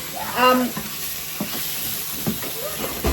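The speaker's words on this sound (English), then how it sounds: "you're just browning them rather than like cooking them" Sausages browning in a frying pan for a spicy sausage pasta give a steady sizzle and crackle throughout, with a few louder stirring scrapes and short pops standing out from the continuous frying hiss.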